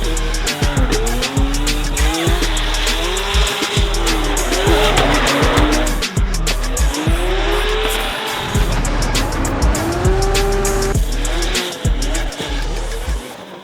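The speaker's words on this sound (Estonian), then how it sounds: "See on siis Jako Supra MK4" A Toyota Supra MK4 with a 2JZ engine driven hard on a test day, loud revving engine notes climbing and falling through gear changes, with sustained tire squeal and skidding throughout.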